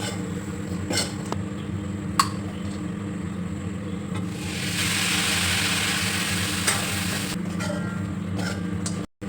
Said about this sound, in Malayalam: വിനാഗിരി ഒഴിക്കണം.